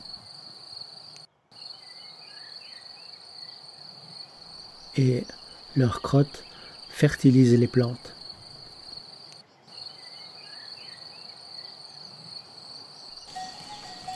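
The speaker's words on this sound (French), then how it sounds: "Des centaines de grillons vivent dans cette prairie." Crickets in a meadow on an agro-ecological pasture chirp in a steady, high, continuous trill through the whole stretch, with a voice talking briefly over them in the middle.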